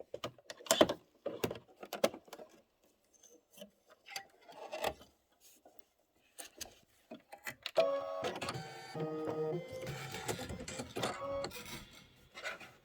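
A Kimberbell embroidery machine stitching letter outlines: scattered soft clicks and taps at first, then a steady, fast mechanical whirring and chattering that runs continuously through the second half, close and moderately loud.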